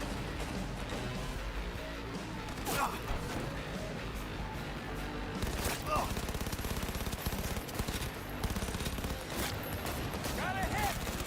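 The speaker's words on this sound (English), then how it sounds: "You're shooting at police!" Rapid bursts of gunfire aimed at police in the video game Cyberpunk, dense automatic fire with sharp impacts and crashes layered under game voices and talk.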